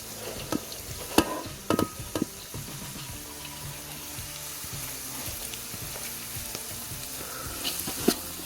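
Finely chopped carrot and cabbage are stir-fried for fried rice, with a soft continuous sizzle broken by a few louder clanks and scrapes of a spatula against the pan.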